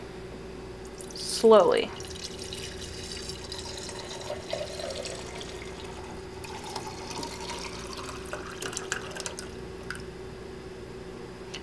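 Liquid sample swirled and poured from a jar into a large sorting tray, a brief splashing pour near the start followed by faint trickles and drips, with a voice speaking briefly.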